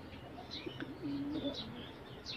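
A pigeon coos softly at a multi-storey pigeon loft, a faint low coo rising mid-clip over quiet background hiss and a few distant chirps.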